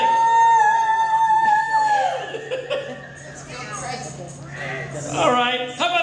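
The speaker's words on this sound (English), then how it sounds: "All of the women in the audience, scream," Women in a bar audience scream and yell together, loud, high-pitched sustained shrieks and rising whoops that stack into a dense crowd roar for several seconds.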